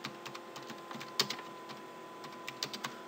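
Typing on a computer keyboard: scattered soft key clicks in short irregular bursts, close and quiet, with no voices.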